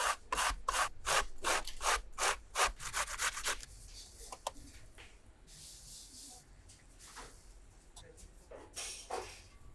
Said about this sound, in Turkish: Kabakları rendeleyin.